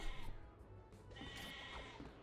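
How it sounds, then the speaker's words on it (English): Sheep bleating in the video game Overdungeon, a short cartoonish bleat over busy game music and effects, moderately loud. "Why did it start lobbing sheep?"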